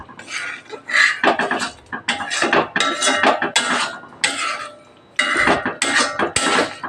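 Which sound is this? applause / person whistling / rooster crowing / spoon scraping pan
spoon scraping pan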